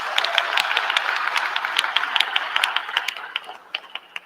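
Church congregation applauding during a United Methodist gathering, a steady wash of many hands clapping with sharp individual claps standing out, thinning toward the end.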